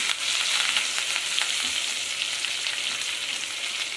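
Continuous crackling sizzle of curry leaves and boiled mutton frying in hot oil, steady and close, with faint clinks of stirring and no voices.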